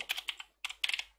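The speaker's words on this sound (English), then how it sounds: "So we type pip install" Short bursts of keystrokes on a computer keyboard while entering a Python package install command, two quick clusters of clicking taps separated by a brief pause, close and clear with no talk.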